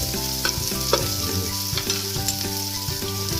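Garlic and onion sautéing in a pan, with a loud, continuous sizzle and occasional stirring scrapes, accompanied by background music.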